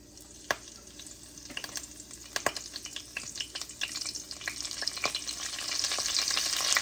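Mustard seeds and fennel spitting and sizzling in hot oil for a Jaffna-style wedding aubergine curry, with sharp crackling pops over a steady frying hiss that grows louder toward the end.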